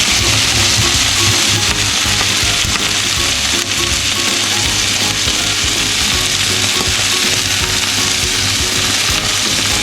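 Beef, mushroom, red onion and capsicum kebabs frying in a hot pan, giving a loud, continuous close-up sizzle that stays steady throughout, with no voices.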